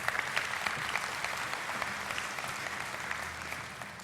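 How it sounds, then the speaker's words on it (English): Steady round of applause from a conference audience, even and continuous, with a few sharper claps standing out near the start. "how about a big round of applause for the advisory committee?"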